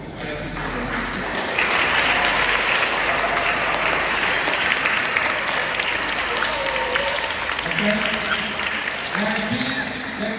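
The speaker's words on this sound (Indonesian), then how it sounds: "Tepuk tangan untuk para siswa dan siswi." An audience at a foundation's anniversary celebration applauds students. The clapping builds after a second and stays broad and sustained, with voices and a few tonal sounds mixed in near the end.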